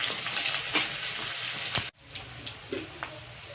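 Bottle gourd sizzles steadily in a hot pan with cumin, mustard seeds and whole chilies, a close, continuous frying crackle with a brief cut partway through before the sizzle resumes slightly quieter.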